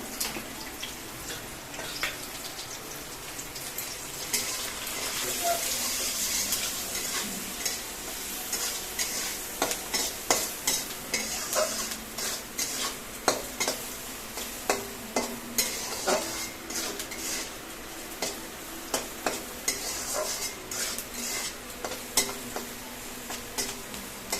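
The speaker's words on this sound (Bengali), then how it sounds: "হলুদ আর লবণ দিয়ে পেঁয়াজগুলো একটু ভেজে নেবো" Sliced onions fry in a pan with turmeric and salt, a soft continuous sizzle broken by repeated sharp scrapes and taps of a spatula stirring against the pan, close and clear with no talk.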